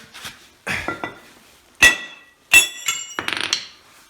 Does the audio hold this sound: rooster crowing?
no